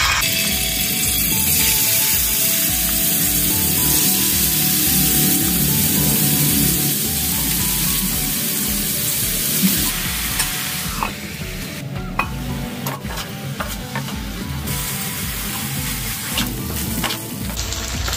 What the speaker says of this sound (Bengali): এবার এগুলোকে ফ্রাই করার টাইম